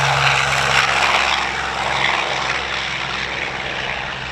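A P-39F Airacobra warbird's piston engine roars with a strong propeller drone at a warbird weekend, loud and steady, then easing slightly as it passes.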